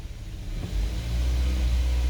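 A faulty car engine held at full throttle drones in a low, steady rumble that fails to climb past about 1800 RPM, rising slightly in loudness then holding flat, close and without speech.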